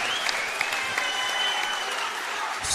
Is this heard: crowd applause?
yes